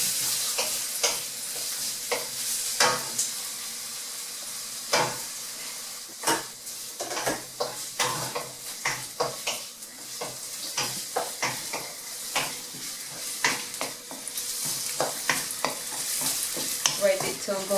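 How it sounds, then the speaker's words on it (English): Ginger and five or six garlic cloves fry together in a pan for pork adobo, giving a steady, moderately quiet sizzle punctuated by frequent spatula scrapes and taps. "And ginger and 5 or 6 cloves of garlic. First we fry them all together."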